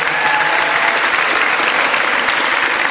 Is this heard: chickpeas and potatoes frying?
no